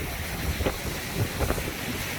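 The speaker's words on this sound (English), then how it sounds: "It's pretty loud here. I'm on the water on the shore of Lake Erie." Wind buffets the microphone on the shore of Lake Erie at Headlands Dunes State Park, a loud continuous roar with water washing faintly beneath it and no talking.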